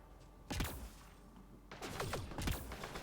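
Gunfire in the video game Mass Effect: Andromeda: a sharp burst of shots near the half-second mark, then a denser volley of repeated reports toward the end, loud and close.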